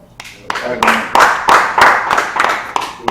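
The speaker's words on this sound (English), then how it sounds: "Good applause to that, man" A small group claps on a casual comedy talk show after a guest speaks about his wife, a handful of sharp close claps in an uneven rhythm with some speech-like sound around them.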